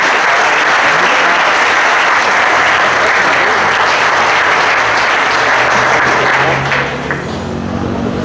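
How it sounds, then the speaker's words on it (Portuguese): A church congregation applauds loudly and continuously, a dense wash of clapping that holds steady for several seconds before starting to taper off. "Eu queria que você aplaudisse a Deus, amém?"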